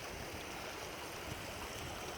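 A Highland river flowing near a small hut on the Cape Wrath Trail, a steady, broad rushing of water heard at a low, even level with no voices.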